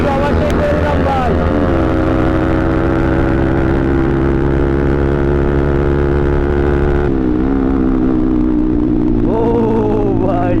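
A motorcycle engine drones loud and close during an overtake on a road ride, a steady harmonic hum that shifts pitch as the rider changes speed, with wind noise and some voices mixed in.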